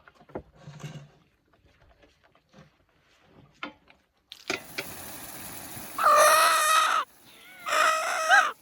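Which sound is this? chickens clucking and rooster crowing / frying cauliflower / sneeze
chickens clucking and rooster crowing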